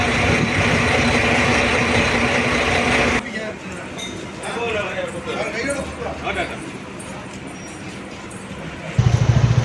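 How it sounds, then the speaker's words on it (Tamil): A Volvo B9R bus's rear engine drones loudly for the first few seconds, then the sound drops to a quieter, muffled hum with talking over it, before a brief louder burst at the end. "வோல்வோவோட ரியர் இன்ஜின் சவுண்டு பார்த்தீங்கன்னா செம்மையாக தான் இருக்கும்,"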